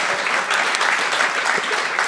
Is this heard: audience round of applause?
yes